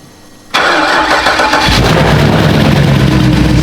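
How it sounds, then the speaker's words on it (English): A V8-swapped BMW E36 cranks briefly after a quiet moment, then fires and settles into a loud, rough, close-up idle that holds steady to the end. "Let's start it up and check for oil pressure."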